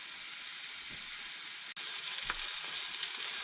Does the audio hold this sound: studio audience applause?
no